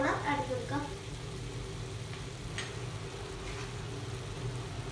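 Chicken with turmeric powder frying on a tawa, a steady close sizzle with a few scraping stirs; a voice speaks briefly at the start.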